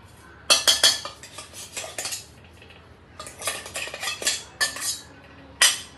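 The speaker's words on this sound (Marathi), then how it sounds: "एकदा हलवून घेऊया" A metal spoon scrapes and clinks against a pan in quick bursts with short pauses as ground sesame is stirred into melted jaggery off the heat, for sesame-jaggery ladoos.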